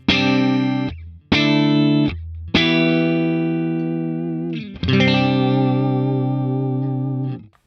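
An electric guitar runs through a Boss Katana amp with a compressor, giving even, sustained chords with a shimmering effected tone, four strummed notes or chords ringing out loudly with no talking.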